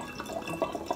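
Kombucha with its SCOBY being poured into a container, a short burst of close liquid splashing and dripping lasting about a second.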